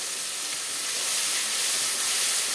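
Ginger-garlic paste with mixed spice paste sizzling in a pan for a mutton and potato curry, a steady, bright, close hiss of frying that swells slightly, heard alone without talk.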